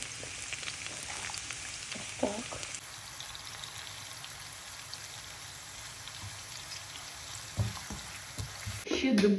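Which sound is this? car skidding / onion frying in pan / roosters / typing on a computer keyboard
onion frying in pan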